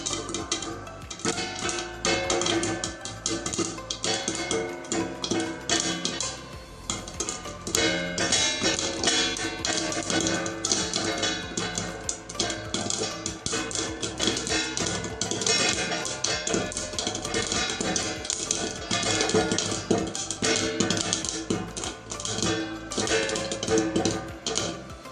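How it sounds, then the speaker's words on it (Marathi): Popcorn kernels popping in a covered pan on the stove, a dense continuous rattle of rapid sharp pops that keeps up steadily and loudly throughout. "ते फुटतं तेव्हा असा आवाज होतो"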